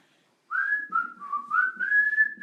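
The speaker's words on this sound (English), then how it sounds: "I've got whistling. Can anybody hear whistling?" A clear, wavering whistled tune drifts through a quiet room in an old jail during a night-time ghost hunt, rising and falling steadily for about two seconds with faint low rumble beneath.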